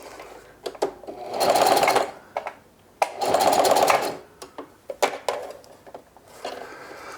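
A sewing machine back-stitches the hem of denim jeans in two sustained motor-driven bursts, loud and close, framed by clicks and knocks from handling the fabric.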